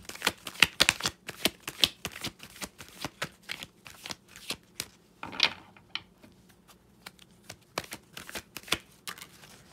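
Tarot cards being shuffled by hand in a steady run of crisp riffling flutters and soft slaps, close and fairly quiet, with no talking.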